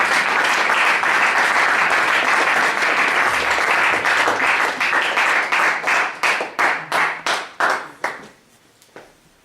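A church congregation bursts into loud, sustained applause acclaiming God the Father, the clapping thinning into scattered individual claps before fading to silence.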